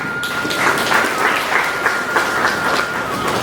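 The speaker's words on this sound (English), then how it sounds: "I request everyone to applaud all the work done to make the day a memorable one in the years to come." Audience applause at a school zone literary competition, a dense, loud, steady roar of many hands clapping that continues evenly throughout without voices on top.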